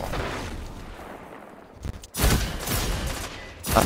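Last Word hand cannon fire in a video game, a few sharp, loud gunshot bursts after a quieter stretch, close and punchy with short decays.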